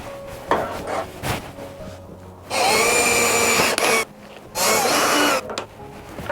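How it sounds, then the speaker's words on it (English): Power drill fitted with an 8mm bit boring a pilot hole while fitting an indicator wiring loom to a 2022 Husqvarna FE 450, heard in two loud whirring bursts of about a second each, separated by quieter handling noise. "we're going to be using an 8mm drill"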